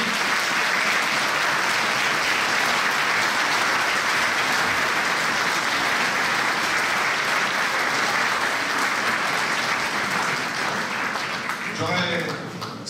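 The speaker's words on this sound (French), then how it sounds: "Vous pouvez les applaudir, hein." A large audience at a town mayor's New Year ceremony applauds firefighters and police with dense, steady clapping that holds loud and unbroken for the whole stretch, easing slightly near the end.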